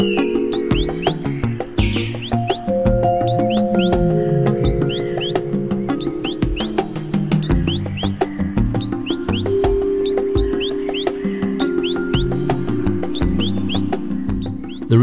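Wild birds calling in Tabin, a secondary-rainforest wildlife reserve in Sabah, Malaysia: many chirps and tweets overlapping continuously over a dense, steady background of insect-like buzzing and music-like tones.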